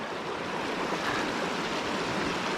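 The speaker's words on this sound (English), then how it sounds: "Gorgeous mountain stream right there." A Colorado mountain stream near Mt Sneffels rushes steadily, a dense, close, continuous roar of flowing water with no voices.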